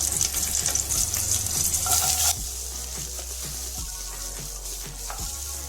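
Onions sizzle and fry in a hot pan with slit chilies, a loud steady hiss with light stirring clinks, close by; the sizzle drops a little partway through and carries on more quietly.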